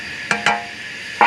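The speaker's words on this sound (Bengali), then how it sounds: "ভেজে রাখা লাউ শাকগুলোকে এবার আমি দিয়ে দেবো।" Fried bottle gourd greens tipped into a pan of simmering curry, giving two quick stirring scrapes and a brief sizzle, then another stir near the end; close and fairly loud with no talk.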